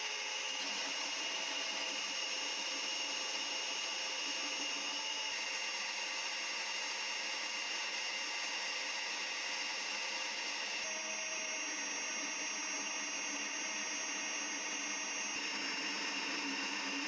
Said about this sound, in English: It was actually the first time I had ever cut a thread on the lathe using the lead screw.